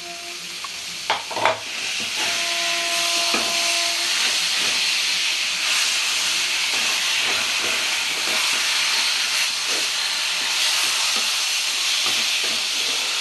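Sour berry (kul) pickle simmering with jaggery in a Bengali kitchen, giving a steady, loud broadband hiss and bubbling sizzle throughout, with a few scraping stirs early on and no talk.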